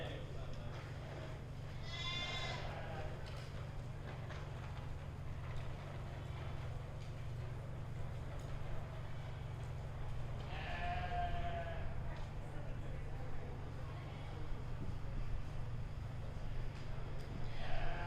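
Two distinct bleats from a goat in a 4-H show ring, at about 2 and 11 seconds, rise over a steady low hum of the show barn, with the announcer's voice talking through much of it.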